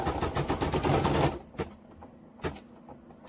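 An embroidery machine sews a placement stitch for a unicorn horn applique on a hooded towel, a rapid mechanical rattling run that stops abruptly, followed by a few isolated clicks and thumps.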